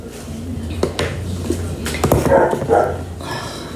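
A dog barks a few times outside, sharp yelps punctuating steady kitchen clatter and faint movement nearby while a pork roast dinner is cooked.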